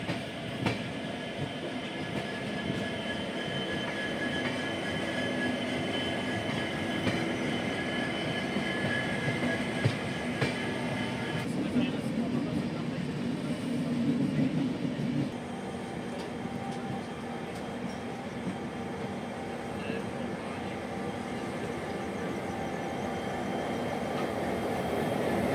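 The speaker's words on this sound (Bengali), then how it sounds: "ট্রেন এখন new Karimganj junction railway station cross করছে" The Agartala–Deoghar Weekly Express rumbles steadily through New Karimganj Junction in Assam, heard from on board, with continuous wheel and carriage noise and a faint squeal, and no voices.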